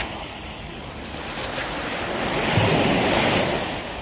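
Strong wind blasts across a UK beach, a steady roaring rush mixed with breaking surf that swells toward the middle, loud and close to the microphone, with no voices.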